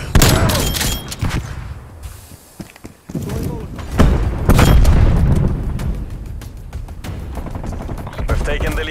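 Frag grenade and gunfire in a first-person team shooter match: loud bursts of shots and a heavy blast around mid-clip, with game radio voices talking over the action.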